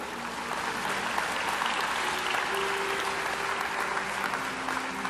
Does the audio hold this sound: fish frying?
no